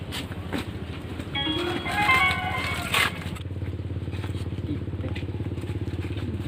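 A motorcycle engine putters nearby with a rapid, pulsing rhythm, briefly joined by scraping and crackling noises before settling into a steady idle-like chug.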